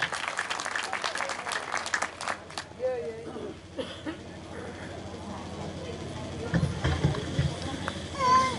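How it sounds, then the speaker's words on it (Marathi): Crowd applause greeting Narayanbhau Rathod as guest speaker at a Tukdoji bhajan competition event in Chikhli, a burst of clapping at first that thins out under background murmur and voices. "जोरदार टाळ्या व्हायला हवं"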